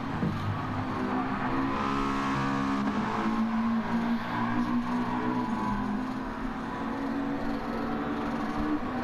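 Race cars in a racing video game roar past in a steady, loud stream of engine noise, with revving and rising and falling tones and no speech.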